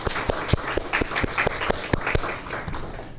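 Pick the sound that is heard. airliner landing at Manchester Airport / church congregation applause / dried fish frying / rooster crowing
church congregation applause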